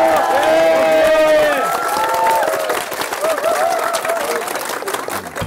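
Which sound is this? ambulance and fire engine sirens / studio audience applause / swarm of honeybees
studio audience applause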